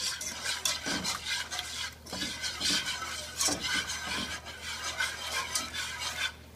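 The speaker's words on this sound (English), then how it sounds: "you definitely have to whisk it, or you don't want your flour turning into dumplings in here" A whisk stirs cream into a flour sauce for macaroni and cheese in a pan, with quick, scraping strokes that rise and fall in uneven bursts, close up and with no talking.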